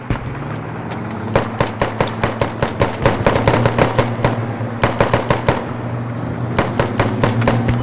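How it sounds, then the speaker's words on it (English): Sustained automatic gunfire in the video game Squad crackles loudly and continuously, with rapid overlapping shots from several weapons over a low background rumble. "Yeah, they're shooting at you."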